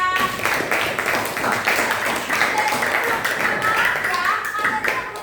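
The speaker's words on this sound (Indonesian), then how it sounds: "tepuk tangan buat Giska" Classroom applause for a student: a group of pupils clapping in quick uneven rhythm, close and steady for several seconds, with voices chattering over it.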